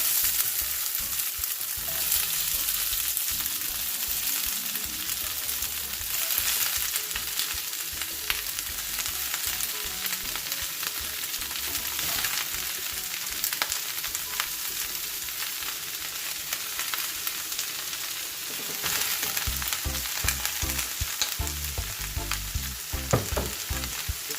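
Cabbage and vegetables sizzle and fry steadily in a hot pot, a loud continuous hiss with occasional stirring scrapes and clacks growing more frequent toward the end.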